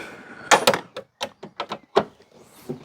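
A Citroën 2CV bonnet drops shut outdoors in light rain, with a sharp metallic clunk followed by several lighter rattling knocks and thumps spread over a few seconds.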